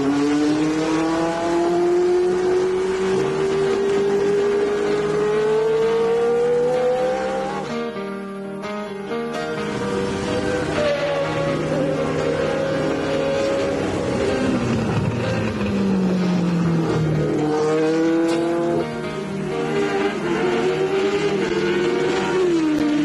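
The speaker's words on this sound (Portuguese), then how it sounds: "O carro sai do box," A Formula 1 car slowly leaving the pit box: a loud, continuous engine note that rises and falls in pitch as it revs and shifts, dipping briefly before climbing again.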